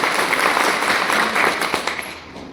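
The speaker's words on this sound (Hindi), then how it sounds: "यस, एक जोरदार ताली होना चाहिए।" An audience at a Hindi direct-selling business seminar claps in a loud, dense burst that stays steady and then eases slightly toward the end. It sounds like a crowded hall, with no distinct voices.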